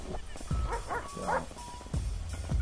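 Dog barking in a video game, a few close, sharp barks and yips spaced across the moment, with some faint whimpering tones between them.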